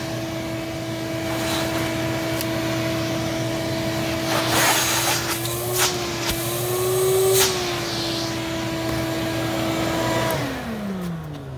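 A shop vacuum pulls sawdust through a cheap two-stage dust separator lid on a 5-gallon bucket, a steady loud roaring whine with shifting pitch and rattling debris, then winding down near the end.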